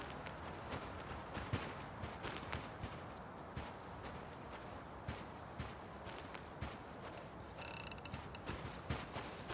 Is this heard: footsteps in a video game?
yes